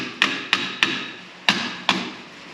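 Five sharp metallic hammer taps against the axle of a 1966 Ford Mustang, irregularly spaced, close and crisp, each ringing briefly before the next strike.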